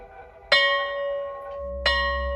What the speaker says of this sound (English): Why, the old school bell!